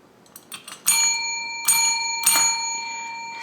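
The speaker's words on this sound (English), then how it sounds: "my first new piece of equipment is this bell" Three bright rings of a small bell, each strike clear and sustained with a long shimmering decay, following a few faint taps; the rings come close and loud, roughly evenly spaced.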